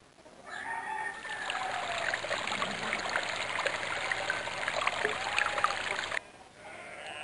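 Water gushing steadily from a garden hose in a Richard Scarry farm video game, a bright continuous hiss and splash that starts abruptly, runs for several seconds and cuts off.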